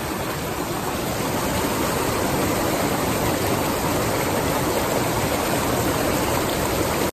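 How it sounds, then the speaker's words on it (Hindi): A glacier-fed waterfall in the mountains of Himachal Pradesh roars as a loud, steady, broadband rush of falling water that stays constant throughout, close by and without any voices. "सीधा सीधा ग्लेशियर से आता हुआ ये झरना हमको मिला है"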